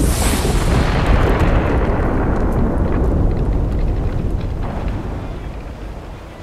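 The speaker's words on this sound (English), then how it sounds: "You were injured when the elemental exploded." An elemental blows up in Guild Wars 2 with a loud, close explosion whose heavy, rumbling roar fills the air and slowly fades over several seconds.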